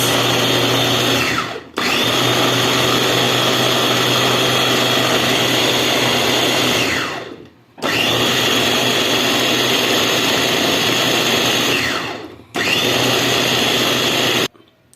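A blender grinding ingredients runs loudly and steadily in three long bursts, each starting abruptly and cutting off with a brief silence between, the motor whining close up with no talk.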